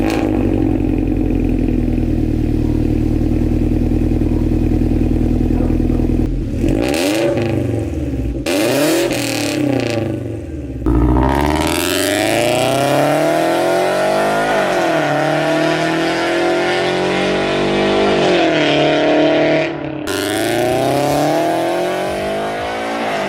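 A Subaru BRZ/FRS/86 exhaust fitted with unequal length headers revs hard and close, rumbling steadily before a series of rising and falling throttle blips and sustained revs that climb and drop.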